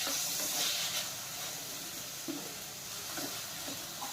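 Tomatoes and vegetables sizzle and hiss in a pan for masala Maggi noodles while a spoon stirs them, producing a steady frying crackle with occasional soft scraping taps.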